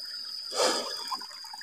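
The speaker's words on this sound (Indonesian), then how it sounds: "Mata air yang begitu sejuk, teman-teman. Sungai berbatuan." A cold spring-fed stream runs over rocks in a forest near a remote village in Kebumen during the rainy season, giving a brief, faint rush and splash of flowing water with no voices.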